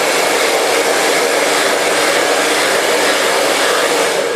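A hair dryer blows steadily and loudly at close range during an in-turn blow-dry of a razor or feather haircut, one continuous even whoosh with no talking over it.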